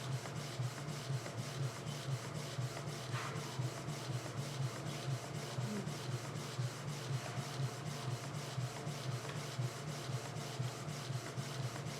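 Canon G-series inkjet printer pulling in a card and feeding it out, a steady faint mechanical whir with rhythmic rubbing clicks of the feed rollers, alone and continuous.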